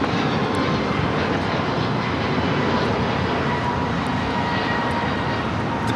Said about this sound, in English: That was American Airlines 247 taking off to Kailua Kona on the A321neo